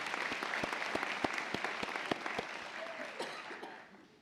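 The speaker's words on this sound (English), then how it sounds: "Let's round of applause as she is hooded officially." Steady audience applause at a spring nursing school convocation as a graduate is hooded, dense clapping with a few sharper claps standing out, tapering off near the end.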